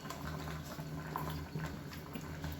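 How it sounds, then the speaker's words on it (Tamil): Soft, continuous bubbling and popping of a pot of black-eyed pea curry with coconut paste gently boiling on the stove, close and steady, with no voices. "இப்போ நல்லா கொதிக்க ஆரம்பிச்சிருச்சு."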